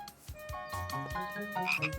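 A frog in a children's cartoon croaks in a quick run of repeated low, rubbery calls, close and clear over a light musical background, with no talking.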